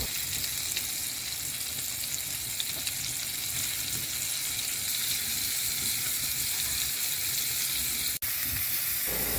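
Coated shrimp sizzle steadily in a pan of oil and butter, a dense, even frying hiss that carries unbroken throughout, close and moderately loud, with only a brief dip near the end.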